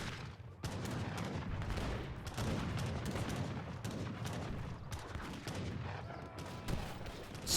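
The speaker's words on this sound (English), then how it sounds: "So much artillery here." Artillery and gunfire rumble continuously in an Age of Empires III battle, dense overlapping booms and crackling volleys forming a steady loud wall of combat noise throughout.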